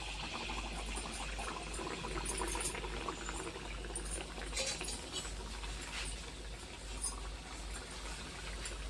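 Harsalu dough pieces deep-frying in hot oil, giving a steady, dense bubbling and sizzling that stays close and fairly loud throughout with small crackling pops, and no talking.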